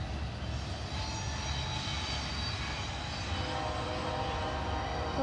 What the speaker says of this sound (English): That was just a light power move.